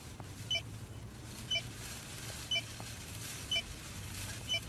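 Short electronic timer beeps from the Bum Simulator VR game repeat at a steady pace about once a second, sharp and clear over a constant low background hum.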